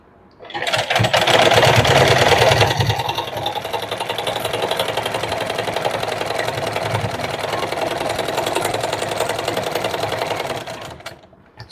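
An electric sewing machine stitches a princess-cut deep-neck blouse, a close, steady rapid mechanical whirr and needle rattle that runs almost continuously for about ten seconds before stopping.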